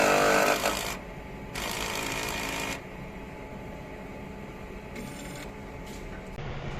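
An eco solvent printer runs a head cleaning cycle beside a DMX sewing machine, giving a loud mechanical whirring and pumping burst at the start, a second burst partway through, then a steady lower mechanical hum with short clicks near the end.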